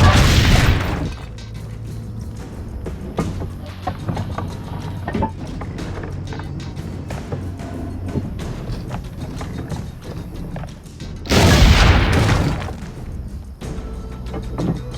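Cannon fire in Assassin's Creed Brotherhood, with two heavy booms, one at the start and one near the end, separated by a stretch of clattering, mechanical background noise.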